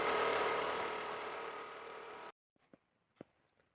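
A scooter engine runs with a steady mid-pitched drone for about two seconds, then cuts off abruptly, leaving only a few faint clicks.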